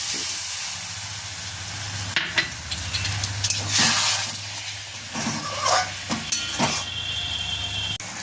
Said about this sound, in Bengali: তো এবার আমি এর মধ্যে একটু জল দিয়ে দেবো।